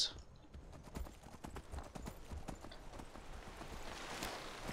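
Horse hooves clip-clop in a steady, close rhythm of distinct hits while riding in the video game Skyrim, carrying on without pause; no voices are heard.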